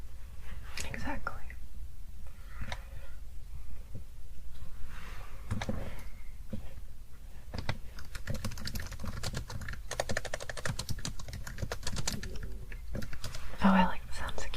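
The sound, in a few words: computer keyboard typing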